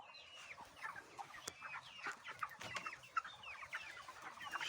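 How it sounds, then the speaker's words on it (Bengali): Broiler chickens in a poultry shed, about 30 days old, give a steady chorus of overlapping clucks and rooster-like calls, fairly close and continuous with a few louder calls. "মুরগিগুলো সব গরমে শুয়ে আছে।"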